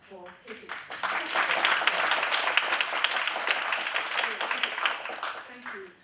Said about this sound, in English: another round of applause for Kitty